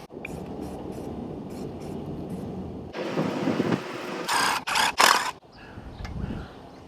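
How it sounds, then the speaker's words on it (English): Several short, sharp hissing bursts of etch primer from an aerosol spray can onto pitted, rusty engine metal, close by, after a stretch of rustling and handling noise. "I'm actually going to spray this with etch primer quickly"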